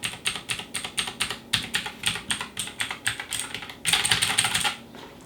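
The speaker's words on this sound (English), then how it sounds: "it's a standard, I would say, mechanical click." Typing on an AJAZZ GEEK AK33 RGB mechanical keyboard: a quick, steady run of crisp clicking keystrokes heard close up, ending in a denser flurry of presses before stopping.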